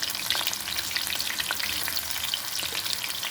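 Food shallow-frying in oil in a pan over low gas, a dense, constant close-up sizzle with fine spitting crackles throughout, no voices.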